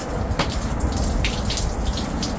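Water gushing and draining out of an AQUASTRONG 1.5 HP centrifugal jet pump, a loud, steady rushing flow with scattered splashes, heard alone without voices.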